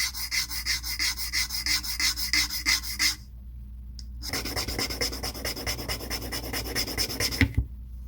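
A part being trimmed down by hand during a boat refit, steady rhythmic rasping strokes up close, filing or sanding back and forth, broken by a short pause before the strokes resume, with no talking.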